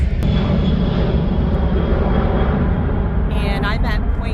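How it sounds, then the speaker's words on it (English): A jet aircraft near Ted Stevens International Airport in Anchorage, Alaska, a loud, steady roaring rumble that fills the whole stretch, with a voice briefly heard near the end. "I am also off of Ted Stevens International Airport, so we might hear a jet or two"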